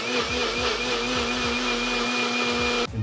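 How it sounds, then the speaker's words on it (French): A blender whirs steadily and loudly while mixing a protein shake, a continuous high motor whine with a faint repeating rhythmic ticking underneath, then it stops abruptly near the end. "vu le bruit du mixeur, à mon avis, il n'y a pas l'œuf parce que sinon ça ferait du crrrr"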